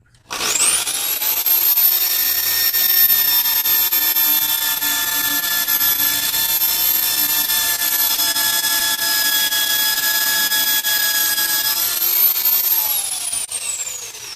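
A drill bores holes into a wood-turning piece, its motor a steady, loud high-pitched whine that spins up at the start, holds for about twelve seconds and winds down at the end.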